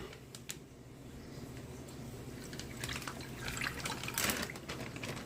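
Liquid Chinese BBQ char siu marinade is poured into a bag holding pork shoulder, a faint splashing trickle with soft drips building to a brief louder gush near the end.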